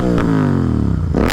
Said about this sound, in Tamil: இதுதான் வண்டியோட பயங்கரமான எக்ஸாஸ்ட் நோட்